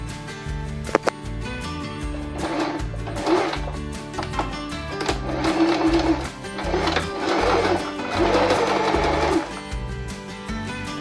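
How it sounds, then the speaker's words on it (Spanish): Sewing machine stitching upholstery fabric for a homemade travel table, running loud and close in several steady bursts with short pauses between, no talk over it. "ahí hice la costura."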